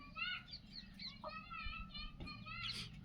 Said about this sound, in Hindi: बच्चे आवाज़ कर रहे हैं पीछे से आने के लिए